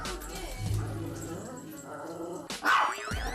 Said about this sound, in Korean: 짖지 마라. 시끄럽다.